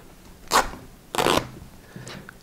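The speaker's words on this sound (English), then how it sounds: "This stuff's nice because you can just rip it." Self-adhering wrap is torn by hand twice, two short loud rips about half a second apart, followed by faint rustling.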